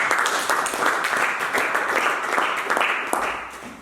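A church congregation applauding in praise, a dense continuous wash of clapping lasting several seconds before fading.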